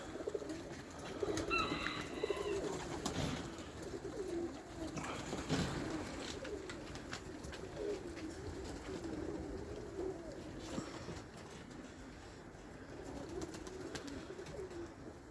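Hungry pigeons perched up high coo in soft, repeated calls, with a brief flutter of wings early on, over a steady outdoor background hum.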